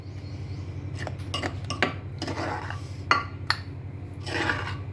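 Raw mango and onion chutney scooped from a pot into a bowl, with a scatter of close, irregular clinks and scrapes of a spoon against metal and glass over a low steady hum.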